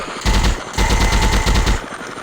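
Rapid bursts of automatic gunfire from a commando shooting video game, loud and close, firing in three quick rattling volleys with short gaps between them.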